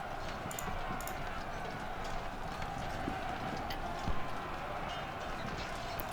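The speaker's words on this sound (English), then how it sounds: "On your horses, away you go." Horses gallop in the Civil War strategy video game Ultimate General: Civil War, a faint, steady patter of hooves under a constant wash of background noise.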